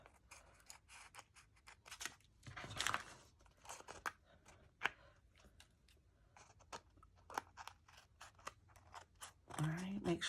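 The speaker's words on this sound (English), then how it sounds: "I am using better scissors for this project" Repeated crisp scissor snips through stiff paper, irregular bursts close by, with a louder rustle near the end.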